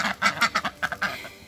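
Ducks quack close by in a quick, uneven series of about seven raspy calls.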